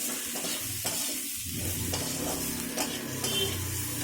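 Mixed vegetables with salt and half a tablespoon of turmeric fry in a pan with steady sizzling, while a utensil stirs and scrapes through them in irregular strokes, close and without talk.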